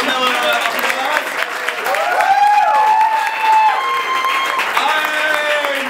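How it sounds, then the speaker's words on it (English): A crowd applauds and cheers at a surprise marriage proposal, a steady roar of clapping and whoops running under a voice talking over a sound system throughout. "let's give Nathaniel Miller a round of applause."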